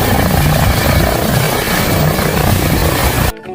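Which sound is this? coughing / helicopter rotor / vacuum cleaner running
helicopter rotor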